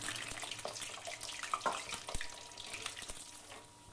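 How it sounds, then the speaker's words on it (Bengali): Potato pieces fry in hot white oil, a steady crackling sizzle with scattered pops and a few clinks from the pan. "সাদা তেল দিয়ে আমি প্রথমেই আলুটা ভেজে নিচ্ছি"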